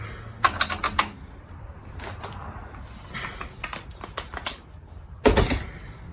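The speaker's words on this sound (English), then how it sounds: "now it's time to start working these bolts out" Bolts on the front strut of a 2002 Acura TL Type S being worked loose, irregular bursts of metallic clicking and ratcheting with quiet pauses between, ending in a louder clatter.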